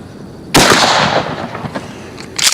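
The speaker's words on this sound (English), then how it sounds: "let's run a few slugs into that bullseye" A single loud shotgun slug blast from a Mossberg M590A1 fired at a bullseye target outdoors, sharp and close with a decaying echo, followed by another shot starting at the end.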